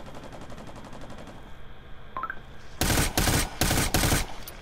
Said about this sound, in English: I shot you through that grate